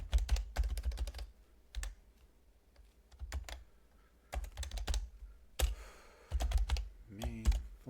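Python code is typed on a computer keyboard in bursts of quick, crisp key clicks separated by short pauses, close and clear with no talking.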